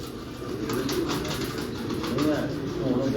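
Pigeons of a prized breed cooing softly at a bird keeper's gathering, low murmuring calls over a steady background hum, with voices talking over them.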